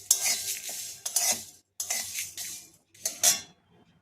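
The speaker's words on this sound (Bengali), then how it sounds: "দিয়ে সবগুলো ভালো করে একটু ভেজে নিতে হবে।" Spices with fennel seeds being fried and stirred with a spoon in a pan while making a tamarind pickle: close scraping strokes in three or four separate bursts with short quiet gaps between.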